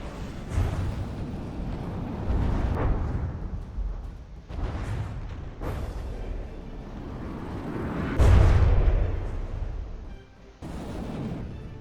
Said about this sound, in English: But it hit something important up here, causing an explosion.